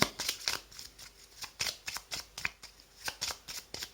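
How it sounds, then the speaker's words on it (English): Gypsy fortune telling cards being shuffled by hand, a run of quick riffling bursts that recur in a steady rhythm, close and crisp, with no voices. "first I will shuffle gypsy cards, gypsy fortune telling cards"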